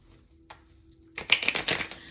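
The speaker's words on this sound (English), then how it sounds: "Let me just shuffle first." A deck of cards is riffle-shuffled once, a quick burst of rapid fluttering clicks after a near-silent moment, close up.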